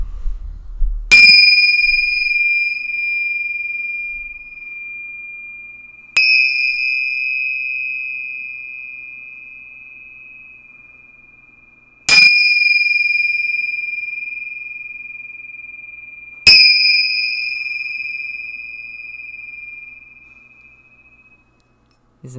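Four separate strikes of small bells, each a bright clear ding that rings out and slowly fades, spaced several seconds apart in an otherwise quiet room, used for dispelling demons.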